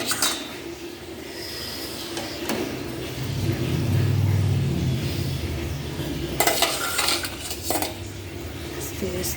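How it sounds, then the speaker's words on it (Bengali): A ladle lowers an egg into hot water in a cooking pot for egg curry, with metallic clinks and scrapes against the pot over a low, rumbling background. "এই জলের মধ্যেই আমি এবার ডিমটাকে দিয়ে দিচ্ছি"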